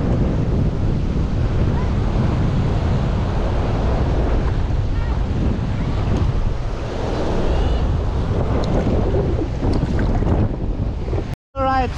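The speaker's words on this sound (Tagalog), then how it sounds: "Laki ng alon guys." Heavy ocean surf roars steadily at Canlocani, Dapitan City, with strong wind buffeting the microphone throughout, ending in a brief dropout near the end.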